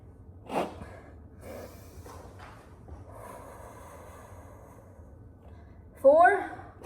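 Heavy breathing during a calisthenics exercise hold, with sharp audible breaths near the start and a strong, close exhale at the end, separated by quieter breathing and soft background noise.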